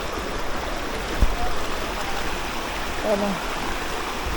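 A shallow stream runs with a small waterfall nearby in a Philippine nature spot, making a continuous, even rushing wash throughout, and a voice speaks briefly over it.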